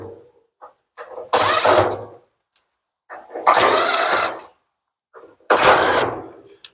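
A power driver whirs out screws from a Samsung dryer's front panel in three separate loud bursts of about a second each, close by, with small clicks and handling noise in the gaps.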